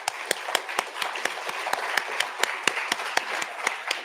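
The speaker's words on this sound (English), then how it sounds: "Let's give them a big round of applause." Modest applause from a summit and award ceremony audience, with distinct individual claps standing out rhythmically over a soft wash of clapping, moderately distant.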